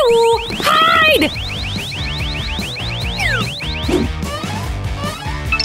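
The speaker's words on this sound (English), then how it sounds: "We've set off the alarm! Wee-woo! Wee-woo!" A cartoon heist alarm goes off, a loud repeating rising siren sweep that pulses rapidly over a busy musical backing.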